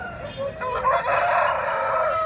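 Country chickens and roosters at a rural poultry market in Kundarapalli, one rooster crowing loudly and close in a drawn-out call, with clucking hens and crowd murmur around it.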